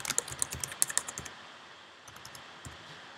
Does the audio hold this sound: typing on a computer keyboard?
yes